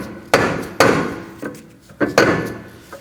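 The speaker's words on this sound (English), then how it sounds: "I'm gonna use a mallet. We're gonna go ahead and tap around this area to get it loose." A mallet taps on a rear brake rotor of a 2011-2016 Kia Optima to knock it loose, giving about seven sharp, irregular metallic knocks close to the microphone.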